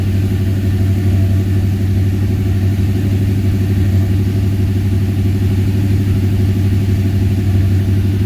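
A 1978 Ford Courier engine idles steadily at close range, a continuous low rumble that stays even and loud throughout, with no talking.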